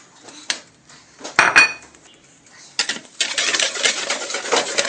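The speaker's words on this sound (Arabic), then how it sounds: "كنحركو مزيان البيضة مع الفورس." A fork beats a raw egg in a bowl for crème pâtissière: a few separate clinks against the bowl, then a steady, fast metallic clatter of whisking that grows louder and fills the second half, with no voices.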